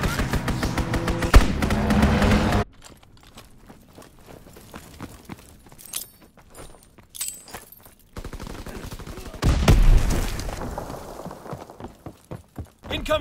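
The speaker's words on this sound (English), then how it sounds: "Incoming enemy artillery! Get to cover!" Artillery and gunfire in the World War II shooter Call of Duty: WWII, with loud rapid bursts and thumps at the start, a quieter stretch of scattered distant shots, then another loud volley near the ten-second mark.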